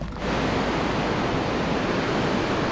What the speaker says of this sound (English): apparently this is the most powerful waterfall in all of Europe